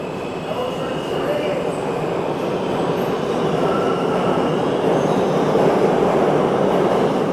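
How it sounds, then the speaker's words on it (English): A New York City subway R train roars steadily and loudly throughout, a constant rumble and rattle of wheels on track heard from inside or right beside it. "Pretty noisy down here. So this is the R train,"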